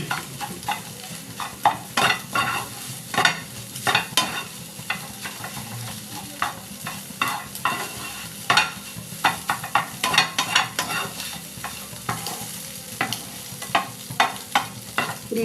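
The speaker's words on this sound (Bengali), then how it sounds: "এই জন্য আমি ঝুড়ি মতন করে ডিমটা ভেজে নিলাম" Egg scrambled into small crumbly bits in a pan for home-style Bengali khichuri, with a steady soft sizzle under repeated sharp scrapes and taps of a spatula stirring the pan.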